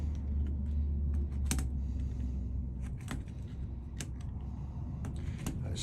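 A blade slices through material spread apart in slots, giving repeated sharp, close clicks and cuts in an irregular rhythm over a low steady background. No one talks.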